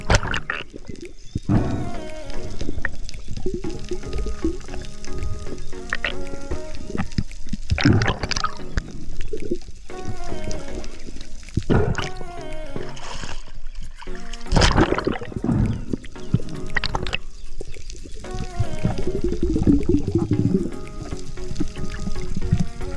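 Underwater snorkeling sounds while spearfishing in shallow open sea, with bubbly gurgles, breathing through the snorkel, and sharp splashes and knocks scattered throughout, close and steady.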